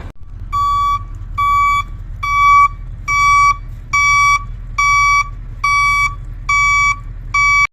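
A KAMAZ 55102 truck's reversing buzzer beeps in an even, repeating pattern of about ten loud, clear tones over a low engine idle, with no talking.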